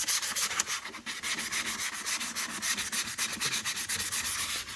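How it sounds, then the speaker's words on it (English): A 400-grit disc scuffs car body paint on a Honda Pilot, producing a steady, rhythmic rasping scrub with rapid back-and-forth strokes, close and fairly loud with no talking. "I have just a 400 disc. I'm gonna go through and then just rough it up to get that primer to stick."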